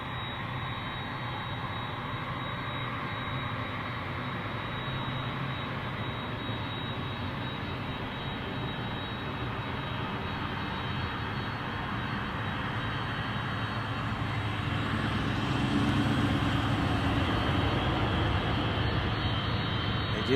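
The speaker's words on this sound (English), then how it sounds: "our A300 from Shreveport is behind this guy," Airbus A300 cargo plane landing at the busy Memphis cargo hub gives a steady, broad jet roar that holds for twenty seconds and swells slightly toward the end, heard from a distance.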